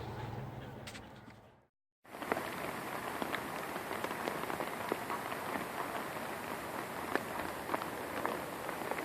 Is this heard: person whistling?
no